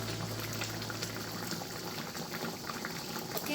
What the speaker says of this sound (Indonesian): ini santannya udah kental dan sudah mendidih sempurna